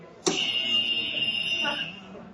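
A sharp electronic game show buzzer sounds once aboard the Disney Wish cruise ship, loud and sustained for about a second and a half before cutting off.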